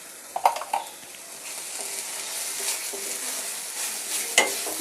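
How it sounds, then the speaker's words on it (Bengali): Coriander and cumin powder being sautéed for a Punjabi-style chicken gravy in a pan, with steady frying sizzle and a few sharp scraping stirs near the start and end, close and moderately loud with no talking. "ভালো করে এটাকে কষাবো"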